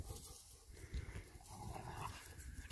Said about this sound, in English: You can growl at her.